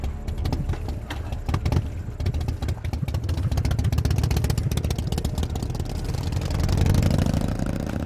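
In a Hindi-dubbed Hollywood adventure film, several motorcycle engines idle in a continuous low, uneven rumble with a few sharper ticks early on, swelling louder briefly near the end.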